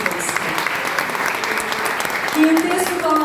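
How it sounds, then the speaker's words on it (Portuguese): Church congregation applauding during a women's gathering service, a steady wash of clapping throughout that swells slightly near the end, with a voice speaking over it. "Aplauda o Senhor por essa palavra"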